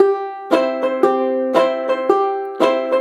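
A banjolele is strummed with heavy, percussive sledgehammer downstrokes in a steady repeating rhythm, each chord ringing briefly before the next sharp hit.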